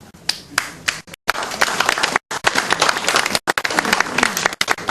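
Applause from an audience at a party leadership meeting in Busan, loud and close with bursts of clapping broken by brief gaps, over crowd noise.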